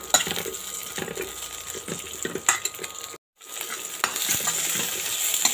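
Fried eggplant and onion sauté in a pan for a Tamil kathirikai kulambu. There is a steady close sizzle with scraping stir strokes and a brief silent gap partway, and no talk.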